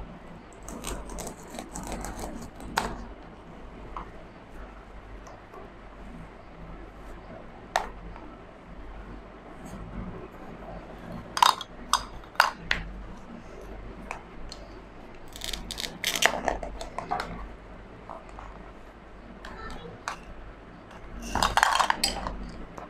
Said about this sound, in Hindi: अब हम लोग कटिंग बोर्ड में इसको कट करेंगे।